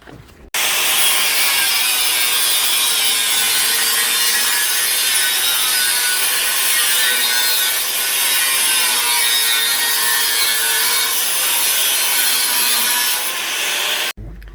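A steel roll cage tube for a JZA80 Toyota Supra build is cut to trim it shorter, producing a loud, continuous, even sawing rasp that runs nearly fourteen seconds with no talk.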